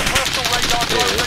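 Rapid automatic gunfire from the Call of Duty video game rattles loudly in a fast, continuous burst, with faint voices mixed beneath.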